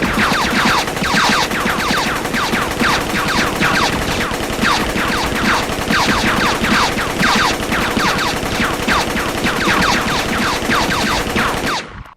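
Sustained rapid gunfire rattles on without pause, sharp repeated shots packed tightly together and loud, cutting off abruptly at the end.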